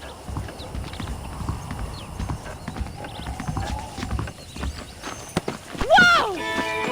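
Horses clip-clopping at a steady walking rhythm in the Western video game Red Dead Redemption, hooves close and clear, with someone talking over them and a horse whinnying near the end.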